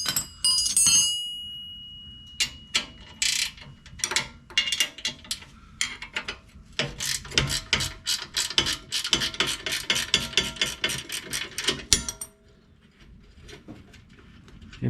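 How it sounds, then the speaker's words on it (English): A ratchet wrench clicks quickly and repeatedly while bracket bolts come off the LP tank on a Eurovan, in bursts of close metallic ratcheting with short pauses and small clinks between them. "Alright, so we're going to take these bolts off of here."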